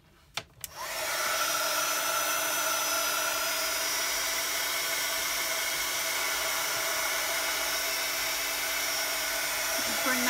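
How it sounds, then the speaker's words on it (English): An embossing heat tool runs steadily for about ten seconds after a couple of brief clicks as it switches on, a constant close whirring blow used to heat-set embossing powder on a card. "And then you just want to use your heat tool."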